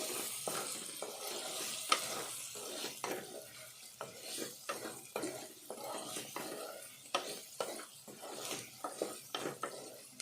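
Chickpeas frying in a pan with tomato curry spices being stirred, close scraping strokes of a spoon against the pan over a soft sizzle, in irregular bursts with occasional sharper clinks.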